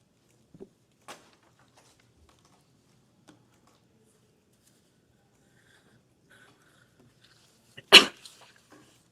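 A single loud sneeze bursts out near the end in a quiet room during a House Oversight Committee hearing, preceded by a few faint small noises.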